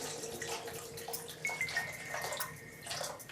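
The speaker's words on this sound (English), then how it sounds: "You take the trough and you're going to fill this up with water." Water pours into a paint brush basin trough as a quiet, continuous splash and trickle, filling the vessel steadily from start to end.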